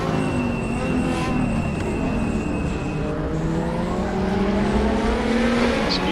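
Group 5 race cars at Bathurst in Raceroom roar close and loud with engines sweeping up and down through gears, another car closing in alongside, while a voice talks at times underneath.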